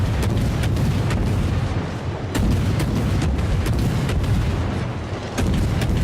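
A torpedo strikes the magazine of a Gneisenau battleship in a naval combat game, setting off a loud, sustained roar of deep rumbling blasts punctuated by repeated sharp cracks.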